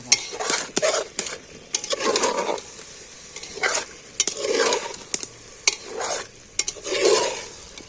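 A spoon stirs and scrapes a thick masala of spices, salt and water sautéing in a pan for egg and soybean curry with potatoes, giving repeated close scraping strokes over a soft sizzle, with no voices.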